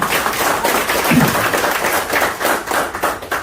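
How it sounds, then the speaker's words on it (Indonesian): Audience clapping for a woman at a sales presentation, a steady patter of hand claps filling the room for several seconds with no speech over it. "Tepuk tangan buat ibunya ya."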